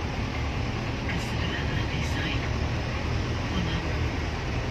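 Steady rumbling ride noise on a mini train at Taman Bunga Nusantara flower park in Cipanas, a constant broadband roar of wheels and motion with faint voices and a few faint higher tones mixed in.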